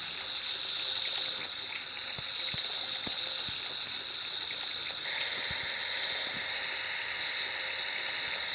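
Water sprays steadily at a car wash in a children's truck video game, a continuous bright hissing gush with small clicks, loud and alone without any talk.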